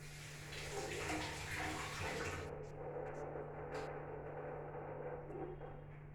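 Garlic cloves rinsed under a running tap, a steady rush of water for about two and a half seconds that then cuts to a quieter trickle with a few faint knocks, over a low hum.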